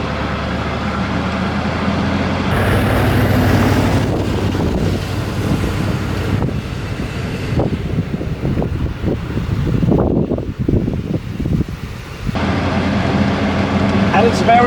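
A US Army HMMWV with automatic transmission drives along a narrow Danish country road, its engine droning steadily under heavy wind buffeting, with a person talking over the cab noise.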